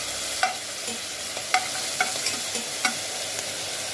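Green chillies sautéing with garlic in a pan, a soft steady sizzle broken by several sharp scraping clicks of a spatula stirring, close and without talk.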